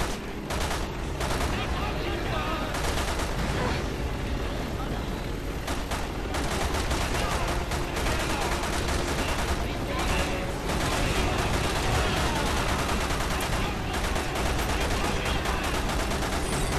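Rapid, continuous gunfire in Resident Evil 6 during a Jake and Sherry co-op bike chase, with dense crackling bursts that run the whole way through at a steady high level, and players talk over it.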